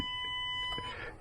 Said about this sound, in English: You can hear the alarms going off.